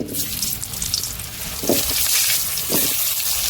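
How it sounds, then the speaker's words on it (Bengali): Potatoes dropped into hot oil in a wok for a spicy Bengali chicken curry, a bright hissing sizzle throughout with a couple of short low clunks as pieces go in, close and fairly loud. "কড়া গরম হয়ে তেল দিয়ে দিচ্ছি তেল গরম হয়ে আলু দিয়ে দিচ্ছি"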